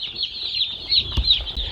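Meat chickens crowd around their feed and cluck in quick, overlapping calls, close and fairly loud, with light shuffling and pecking underneath.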